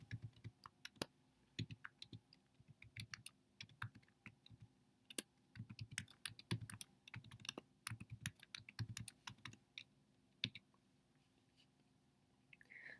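Someone types an email address on a computer keyboard, a close, irregular run of quick key clicks with short pauses between bursts.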